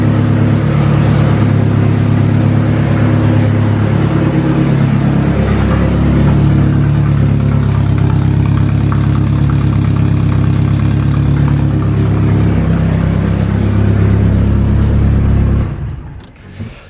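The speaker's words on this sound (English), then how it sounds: "my exhaust sounds like shit" A turbocharged KA engine idles steadily through a rough, poorly fitted exhaust, a loud, close, continuous low drone with a throbbing pulse that holds for about fifteen seconds before stopping suddenly.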